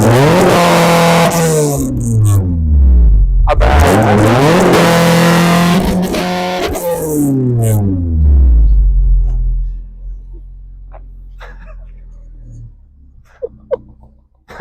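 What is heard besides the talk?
Honda Civic VTEC engine revving up to 9000 rpm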